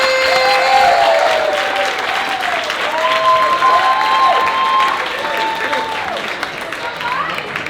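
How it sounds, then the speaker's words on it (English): Comedy club audience at Gotham applauding a comedian's introduction, a sustained burst of clapping with a few cheers, while a host's amplified voice carries over the top. "Start clapping it up, start clapping it up"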